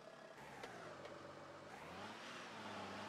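A fire engine's motor runs at a steady, muffled hum for about three seconds, with a slight rise in pitch toward the end and no voices.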